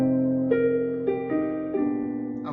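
A jazz piano ballad played in free rubato time, sustained chords changing a few times with a passing chord between them, soft and unhurried with no talking.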